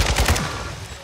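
Rapid automatic gunfire from a Call of Duty: Modern Warfare 2 match, a quick burst of close, punchy shots that fades into a rumbling tail.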